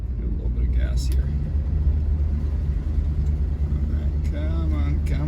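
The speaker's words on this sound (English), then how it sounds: "Give a little bit of gas here." Mercury Marquis engine warming up and given a little gas, a low steady rumble near the mic with a person talking over it.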